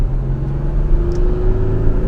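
A 2014 Audi Q7 TDI diesel SUV with 150,000 miles accelerates from a stop, heard from inside as a loud, steady engine drone that rises smoothly in pitch with road rumble beneath.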